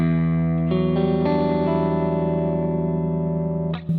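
An electric guitar played through channel 1 of a Bogner Helios Eclipse amplifier, a heavily modded Marshall-style head, rings out in sustained, loud distorted chords that change a few times, with no talking over it.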